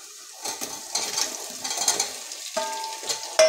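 Ginger garlic paste frying in a pan over a full gas flame, a close, steady sizzle broken by stirring scrapes and soft clinks of utensils, with a sharp clack at the very end.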